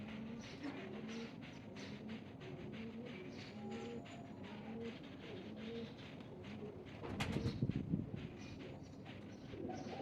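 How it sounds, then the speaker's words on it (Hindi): Rampuri Teddy pigeons coo softly in repeated low, rolling calls, with a brief louder rumble of passing noise partway through. "हाँ बेटा ये कबूतर देख लेना यहाँ से"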